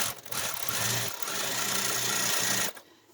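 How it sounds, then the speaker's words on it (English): A sewing machine runs steadily, stitching scrappy paper-pieced crazy quilt pieces at a scant quarter-inch seam, whirring for nearly three seconds with brief dips before stopping abruptly. "Okay, so I have those two sewn together"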